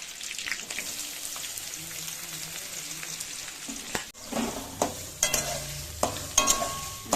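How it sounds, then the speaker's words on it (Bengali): Chopped green chillies and onions for masala dosa filling frying in a pan, a soft crackling sizzle that grows louder near the end with several sharp spatula scrapes. "সব ভালো করে এগুলো নাড়িয়ে নেব"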